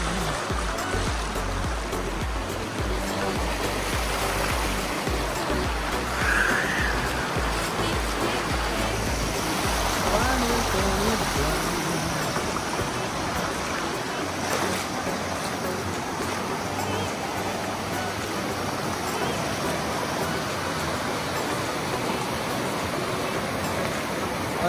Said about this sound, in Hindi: बहुत तेज बह रहा है पानी